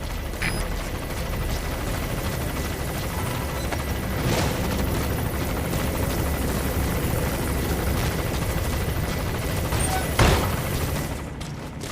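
Arms dealer's patrol helicopter in Metal Gear Solid V, a steady loud rotor and engine drone filling the scene continuously, with a couple of sharp thuds breaking through.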